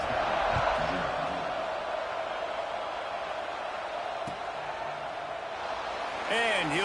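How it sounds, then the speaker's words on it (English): A college football stadium crowd keeps up a steady, dense roaring murmur just after a touchdown and good extra point, with brief louder swells and a voice talking over it near the end. "this crowd is buzzing after that last score"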